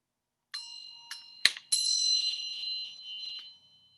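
A single bell from a bell tree, pitched on G, is struck a few times in close succession, the last strike ringing on bright and clear before fading out into silence.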